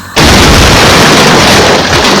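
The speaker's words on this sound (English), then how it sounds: "There is a rending crash." A rending crash of metal against metal hits abruptly and very loud, a dense noisy burst that stays harsh and sustained for about two seconds without any talking.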